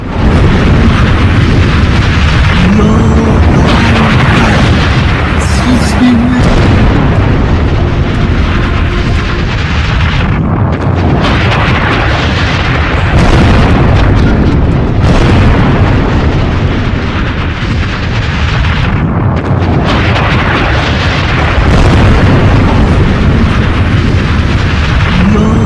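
Explosions from footage of a US attack on a missile site at Isfahan, Iran, form a continuous loud roar of booms and rumbling blasts lasting throughout, with sharper bursts standing out against the heavy din.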